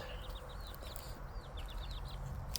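Soft clucks and chirpy calls from chickens, several brief calls scattered through the clip over a low outdoor background, fairly faint.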